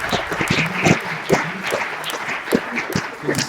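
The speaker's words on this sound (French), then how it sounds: "Bon, on peut applaudir." An audience at a business conference claps together, the applause steady and mid-distance, with some sharper individual claps standing out and murmuring voices mixed in.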